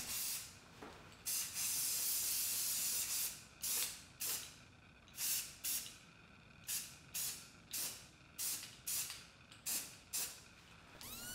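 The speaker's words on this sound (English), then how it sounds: "I taped the edges of the piece and spray painted the top white." White spray paint hisses out of a can in a long burst, then in a series of short, evenly spaced spritzes, loud and close.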